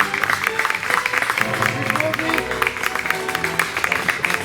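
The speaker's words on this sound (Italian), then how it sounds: "applauso." Guests at a villa wedding ceremony near Venice applaud right after the couple's kiss, a full round of clapping that runs throughout, with voices and some tonal background sound mixed beneath.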